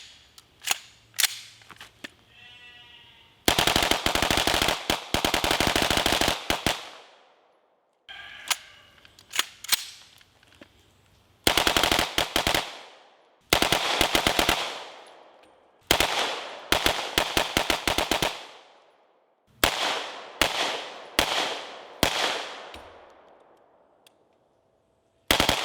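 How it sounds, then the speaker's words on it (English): Rapid bursts of gunfire from an AR9 pistol-caliber carbine at an outdoor range, loud and close, fired in several fast strings separated by brief pauses, each burst ringing out with echo. "Shoot this felonious AR9"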